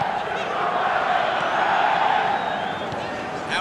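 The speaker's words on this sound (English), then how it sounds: "you can hear how the crowd are reacting to this too" Stadium crowd noise in the PES 2019 football video game during a Lyon vs Barcelona Champions League match, a continuous swelling roar of many voices with faint whistling, heard alone at steady loudness.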